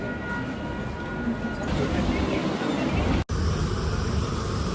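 A train pulls into a station with a loud, steady rumble and rising rolling noise, close by and continuous, with a brief cut near the end.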